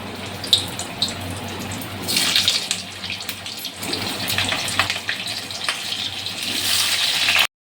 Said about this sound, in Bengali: তেলটা গরম হয়ে গেছে, আলুটা ভেজে নেব।